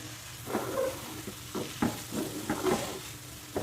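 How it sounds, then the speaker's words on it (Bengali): Stone-pounded minced beef frying in oil over medium-low heat, a soft, close sizzle broken by several scraping stirs of a utensil in the pan. "সেই মাংসটাকে আমি এখন দিয়ে দিচ্ছি মিডিয়াম লো হিটে মাংসটাকে ভুনে নিব আমি"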